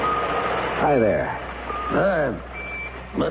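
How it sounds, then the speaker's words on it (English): A pocket alarm watch sounds a pair of short electronic beeps, separated by about a second, with a voice speaking around them in a radio drama. "I've got a pocket alarm watch, and it keeps trying to tell me something."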